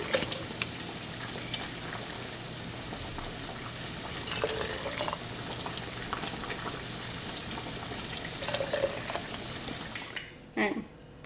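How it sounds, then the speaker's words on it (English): Boiled water pours into glass canning jars for home canning in a steady liquid trickle and splash that runs throughout, with brief louder surges and a short clink near the end. "I'm probably going to spill quite a bit of this water just getting it in these jars"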